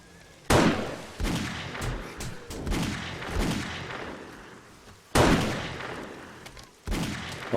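Gunfire in the 7 Days to Die video game: several sharp, loud shots ring out at irregular intervals, each one leaving a short echoing tail, with no talk over them.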